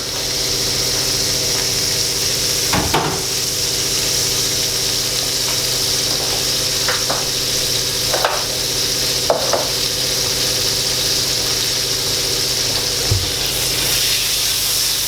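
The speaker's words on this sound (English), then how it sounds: "We go in with a nice big spoonful of butter. We're going to let that melt down." Butter melts and sizzles in a pan just used for prawns, a steady close frying hiss under a low hum, with a few sharp clinks from a spoon or utensil scattered through.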